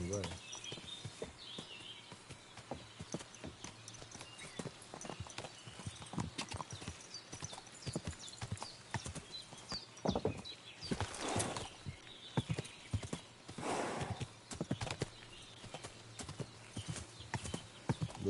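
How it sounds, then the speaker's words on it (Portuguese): Horse hooves clip-clop in a steady walking rhythm while riding in the medieval video game Kingdom Come 2, joined by a brief whinny and faint birdsong, with talk over the top. "Is this your first time riding a horse, you moron?"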